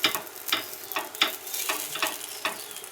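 Appe fry in a pan and are turned one by one, with a steady sizzle broken by regular scraping taps about every half second, close and fairly loud, with no voices.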